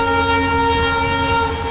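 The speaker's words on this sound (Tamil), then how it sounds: "இது வந்து ரெண்டாவது ட்ரெயின். ஆனால் இந்த வாட்டி பார்த்தீங்கன்னா பேசஞ்சர் ட்ரெயின்." A passenger train sounds a long, sustained horn blast, loud and close, with steady rail rumble underneath and no voices, on a railway line near a waterfall trek.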